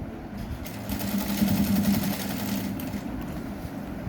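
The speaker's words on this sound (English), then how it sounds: "So now you start from there and stitch on the edge of the fabric." A sewing machine stitching along the edge of fabric for kids' elastic shorts, a close, steady whirring hum that swells in the middle and eases off toward the end.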